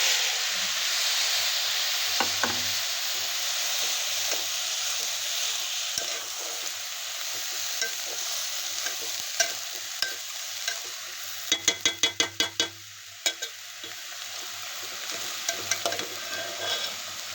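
Rice fries in a pan while a spoon stirs it, a constant soft sizzle broken by scraping strokes and a quick run of sharp metallic taps near the middle.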